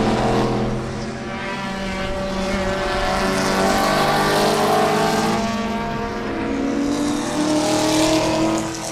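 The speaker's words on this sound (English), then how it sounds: "Looks like the little orange Mazda. Ooh, that thing's loud." Race cars at Sebring roar past at a distance, a loud little orange Mazda among them, its engine note sustained and buzzing as it sweeps by.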